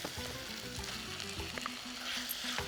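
Tomatoes sautéing with onions in hot oil give a steady, close crackling sizzle throughout, with a faint tonal melody underneath.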